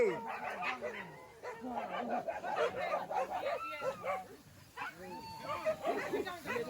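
Several dogs bark and yip in bursts, mixed with other animal calls and human voices, fairly close and busy throughout.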